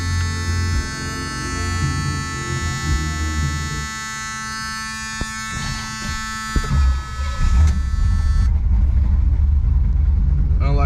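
A 1977 Pontiac Trans Am with EFI is cold-started: a steady electric whine runs for several seconds, then the engine catches with a burst and settles into a loud, deep, continuous rumble close by.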